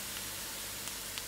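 Onions frying in a pan for dried fish chutney, a steady close hiss of sizzling oil that stays even throughout, with no talk over it.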